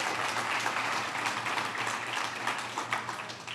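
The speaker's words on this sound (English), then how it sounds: "A big round of applause." An audience at a Fund.AI 2025 conference claps steadily at moderate volume, a dense wash of applause from a crowd filling the whole stretch.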